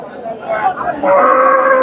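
A crossbred cow lows loudly and close at the Chandaikona cattle market, a drawn-out moo rising and holding, with faint crowd chatter in the background.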